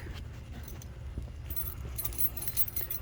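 Metal keys to a high-mileage 1988–1999 Chevy C/K1500 5.7 V8 pickup jangle and clink close by for a few seconds over a low background rumble, getting brighter and busier toward the end, with no talking.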